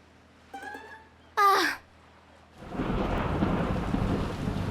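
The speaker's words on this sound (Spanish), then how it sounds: "No quiero preocupar a nadie, pero ¿eso de allá es una tormenta?" Thunder from a storm at sea in a cartoon rolls in as a deep, sustained rumble with rain-like hiss, preceded by brief animated vocal sounds.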